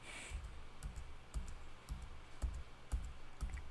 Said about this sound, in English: Get to hear me clicking along.